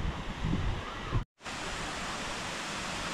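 Jalagamparai waterfall in Tamil Nadu, water pouring down over rocks, makes a loud, steady broadband rush that fills the whole clip, broken once by a brief cut of silence before the roar resumes.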